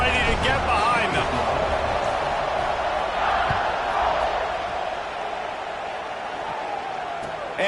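A stadium crowd in the College Football 26 video game keeps up a broad, steady roar late in the fourth quarter, heard under a commentator's voice and easing slightly toward the end.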